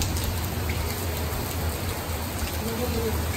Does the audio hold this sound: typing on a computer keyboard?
no